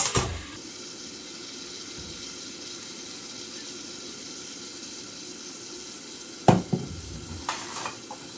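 Onions and tomatoes sauté in oil for a kuzhambu, giving a steady, close sizzle throughout, with a few sharp utensil clatters near the end.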